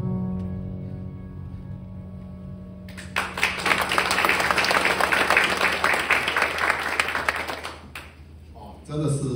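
Loud audience applause at a leadership training seminar, a dense burst of clapping from a large indoor crowd that starts abruptly after a tonal intro, holds for several seconds, then fades as voices resume.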